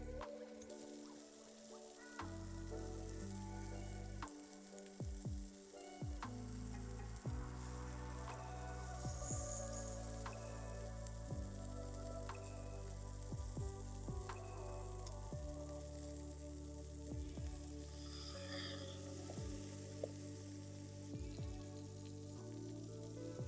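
Steak fries with melting butter in a Trangia camping cook set, a faint, steady sizzle and crackle running throughout, broken now and then by light pops and a few quiet clinks.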